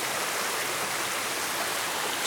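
The south branch of the Day Brook rushes near a waterfall, producing a steady, loud, broad hiss of flowing water that fills the scene without pause and has no voices.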